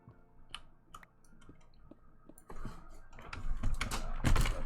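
A computer keyboard clicks with scattered keystrokes, then knocks and rattles louder as it is slid and repositioned on a desk, close up.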